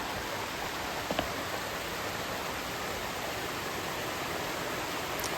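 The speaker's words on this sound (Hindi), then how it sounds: "ये वो जगह है जहाँ से वाटरफॉल नीचे की तरफ गुजर रहा है" Devkund waterfall near Balasore pours down over rocks in a constant, dense rushing roar that stays even and unbroken throughout, with no voices.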